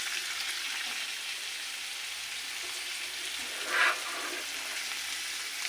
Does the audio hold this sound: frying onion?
yes